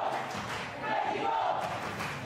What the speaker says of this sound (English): Crowd chanting Mexico, trying to urge on Brenda Castro